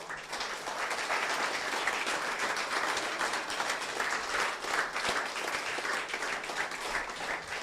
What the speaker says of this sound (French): On applaudit le Seigneur pour ça.